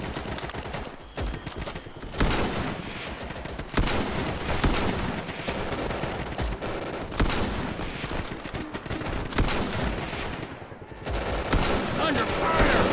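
Dense bursts of gunfire from the video game Easy Red 2, loud and sustained with rapid automatic volleys and scattered heavier shots, a near-continuous battle din with brief lulls and possible faint voices beneath.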